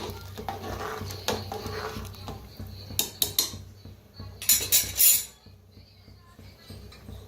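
Metal spoon scraping and clinking against a pressure cooker pot as sugar is stirred into food, with a few sharper clanks and a brief rattling burst midway.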